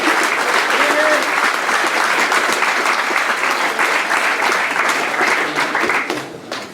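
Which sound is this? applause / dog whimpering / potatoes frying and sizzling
applause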